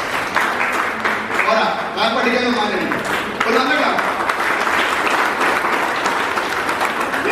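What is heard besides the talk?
audience applause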